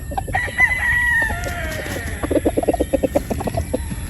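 Game fowl roosters at a Batangas game farm, with one rooster crowing a long cock-a-doodle-doo up close, followed by a quick series of short clucks and calls, and no talking.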